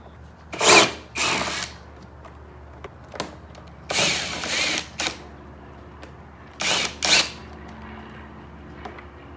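A power tool spins out Allen bolts on a Yamaha YFZ450 quad, firing in short, close whirring bursts, some paired, with quiet pauses between them.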